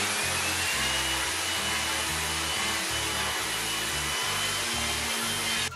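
A power sander works over wooden furniture parts for a modular seat before assembly, giving a loud, steady, close whirring drone with a slightly pulsing low rumble that runs without a break and cuts off at the very end.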